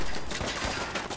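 Video game gunfire from a rifle-like weapon crackles as a dense, continuous burst of rapid shots lasting about a second, loud and close, with no talking.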